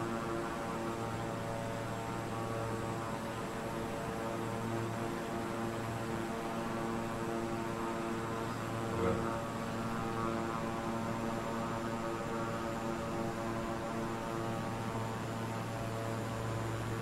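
A propeller aircraft engine in Microsoft Flight Simulator drones steadily and evenly with a layered hum throughout, with one brief bump near the middle and no speech.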